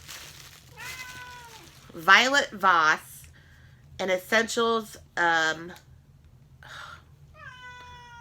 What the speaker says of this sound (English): My cat's meowing even though I let her in.